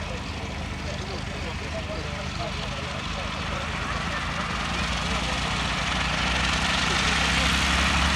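A Hawker Nimrod Mk.1 biplane comes in to land at an airfield, its engine a broad continuous drone that slowly swells in loudness, with a voice talking over it.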